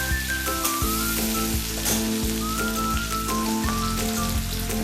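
Whole cumin seeds and chopped garlic hit hot oil for a Punjabi-style chilli potato, giving a steady, dense crackling sizzle throughout with background music playing over it.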